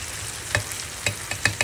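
Pinakbet vegetables with squash and shrimp paste cooking in a pan, a faint steady sizzle broken by a few brief scraping clacks of stirring.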